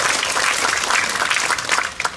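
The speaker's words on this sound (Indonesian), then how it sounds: "Tepuk tangan untuk anak-anakku semua." Dense, steady applause from an audience honouring schoolchildren of Sekolah Rakyat 19 Kupang at an official event in Kupang, many hands clapping together close by for about two seconds.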